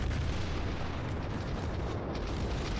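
Battleship guns boom in World of Warships, heard as a dense, continuous low rumble of heavy gunfire and explosions throughout.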